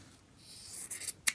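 Scissors snip through waistband fabric being cut in half, a few quiet, crisp cuts closing together near the end of a short, soft passage.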